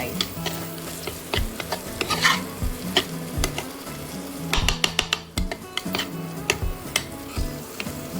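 Tomatoes are added to a frying pan of hostel-style Maggi and stirred with a spoon, giving a steady sizzle with scraping and clinking against the pan throughout, close and fairly loud.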